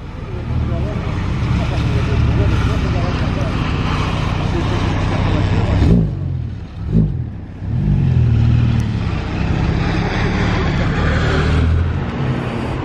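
A Mansory-modified supercar accelerates away through the streets of Monaco, its loud engine roar rising above steady street and traffic noise, with voices in the background.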